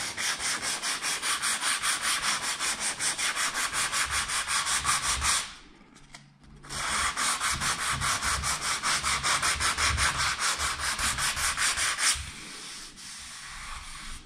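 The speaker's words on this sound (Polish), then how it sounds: "Bardzo fajnie się ten akryl szlifuje." Steady, close back-and-forth rasping of hand sanding over acrylic filler on a ceiling cornice joint, pausing briefly midway and softening toward the end.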